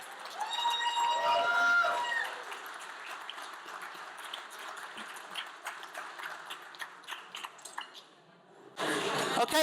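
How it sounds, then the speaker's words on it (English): Applause at a chamber of commerce awards dinner, a crowd clapping under cheers and voices that taper to scattered claps and chatter before a short loud burst of noise at the end. "Let's give them a round of applause."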